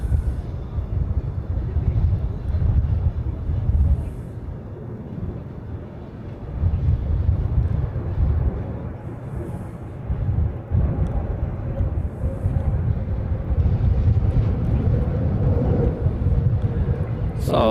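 An Airbus A321 airliner departs for Maui, its engines a distant, low broad roar mixed with wind buffeting the microphone, while someone talks over it.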